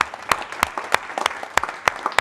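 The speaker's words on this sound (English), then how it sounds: "please give a big round of applause to our event team, especially Josh and John, for putting this all together." Applause for an event team at a startup gathering, close, fairly loud clapping with sharp, rhythmic individual claps standing out over a softer spread of hands.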